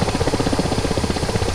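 Helicopter flying on a video game mission, a steady close rotor thump with a fast regular chop and an engine drone, loud and alone.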